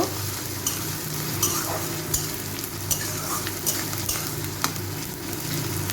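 Grated coconut frying in a pan with banana flower, a steady close sizzle broken by short scrapes of stirring, with no voices.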